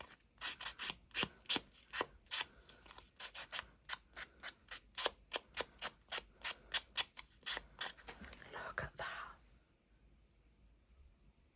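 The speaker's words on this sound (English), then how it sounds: "distress the edges of the photo, just like that. And then bring in the sandpaper back." Sandpaper rasping along photo edges in quick, regular strokes, about twenty close, crisp scrapes in a fast rhythm before they stop and a quieter rustle follows, faint and alone.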